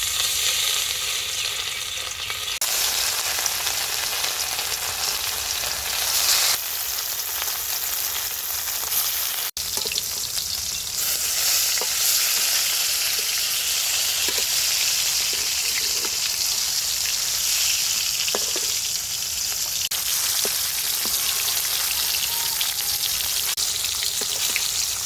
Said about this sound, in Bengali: তেল গরম হয়ে গেছে, কড়াই মাছ দিয়ে দিব।